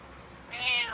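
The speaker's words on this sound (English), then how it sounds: "Meow." A single cat meow, drawn out and fairly close, rising in the second half after a stretch of quiet.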